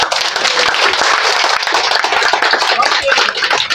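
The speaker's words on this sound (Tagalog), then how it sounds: "bigyan muna natin silang lahat ng matigabong palakpak" Loud, dense clapping from a crowd at a company thanksgiving and year-end party in Antipolo, many hands beating together in a steady, close roar without a break.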